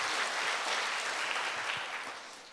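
A church congregation applauds a choir with a brief burst of steady clapping from many hands that fades out over a couple of seconds.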